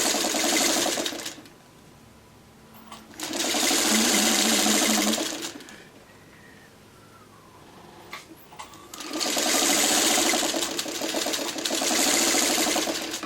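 Sewing machine stitching triangle pieces for a quilt pinwheel block: three bursts of rapid, rhythmic mechanical chatter, close and fairly loud, with quieter pauses and handling sounds between them.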